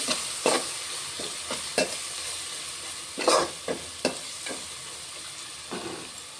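Coriander powder is stirred into a rice masala frying in a pan, with intermittent scraping spoon strokes over a steady, close sizzle and no speech.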